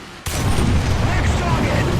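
A modified 120mm Rheinmetall tank gun fires once in War Thunder, a sudden loud blast followed by a dense, rolling boom that fills the rest of the moment.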